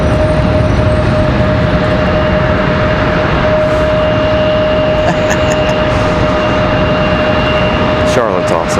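An Airbus A321 jet departs Charlotte Douglas International. A loud, sustained engine roar carries a steady tonal whine throughout, with a voice speaking over it.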